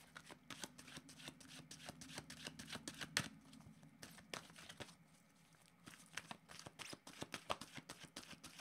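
Oracle cards are shuffled by hand in a quick, continuous riffle of soft slaps and rustles, close and fairly quiet, with a brief lull before the shuffling picks up again.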